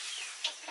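Chickens clucking on a farm during meat-bird processing day, a brief faint hen sound with a soft higher cluck near the end, no speech.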